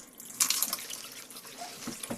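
Water splashes and drips from a bathroom tap in a 2014 Bailey Unicorn Cordoba caravan, sputtering unevenly as if air is being pushed out of the pipes, moderately loud and close.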